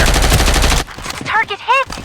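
Gunfire in the Farlight84 video game, a dense loud burst of rapid shots for nearly a second, followed by short whooshing synthetic effects and a brief character voice line.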